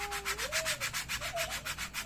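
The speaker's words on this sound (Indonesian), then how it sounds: "Nah ini pertama pakai amplas 80, kita kasarin ini ya" Rough 80-grit sandpaper rubs back and forth in quick, even strokes, a soft rhythmic scratching close by with a faint tonal whine underneath.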